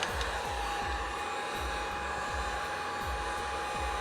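A Wagner heat gun runs steadily after being turned down to 800, giving a continuous blowing hum with a faint repeating low flutter, close and loud throughout.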